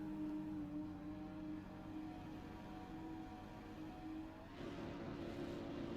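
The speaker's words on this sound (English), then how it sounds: "Alright, the engines are revving up." Race car engines revving before a practice start at a season opener on the Tokyo R246 circuit, heard as a faint, steady, distant drone of several engines with a slight shift in pitch near the end.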